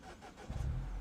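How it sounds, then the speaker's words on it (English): Engine start of a 2012 Mini Cooper S (R56, N18 engine): quiet cabin, then a sudden low crank and catch at mid-clip settling into a steady, loud rumble, heard close from inside the car. "let me go ahead and start the car really quick"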